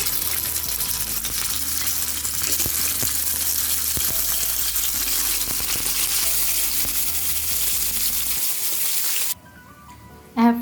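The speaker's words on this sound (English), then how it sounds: "Till the masala get cooked, let's fry the fish." Fish pieces fry in hot oil on a flat tawa with a steady, close, dense sizzle that runs unbroken for most of the stretch, then drops away abruptly near the end, leaving a brief quieter tail.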